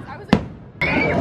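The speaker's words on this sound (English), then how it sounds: "Fireworks." Fireworks go off at night in Paros, Greece: a sharp nearby bang, then a louder burst that rolls into sustained crackling and rumble, with voices mixed in.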